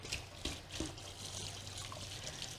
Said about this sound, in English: Just put a little bit of water at the bottom of the pan just to make sure that nothing dries out